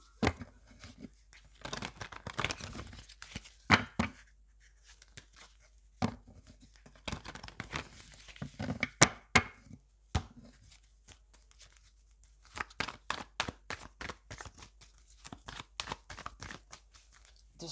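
Astrological cards are handled and shuffled in scattered quiet bursts of crisp riffling, snapping and tapping. The sound stays close and faint against near silence.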